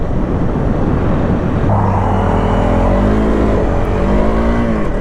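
A Honda CRF300L dual-sport motorcycle ridden on a dirt road in the Australian bush, its single-cylinder engine loud and close, rising in pitch as it revs hard over wind rush.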